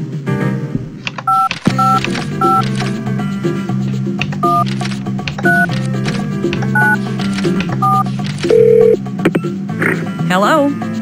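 Telephone keypad tones from the Spy Fox in Dry Cereal video game beep in a quick sequence of short dialing notes, repeated, mixed with game sounds and a character talking.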